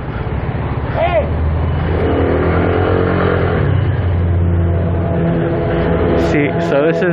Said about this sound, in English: See, so this is the good thing about being on a scooter. You could just go right through traffic.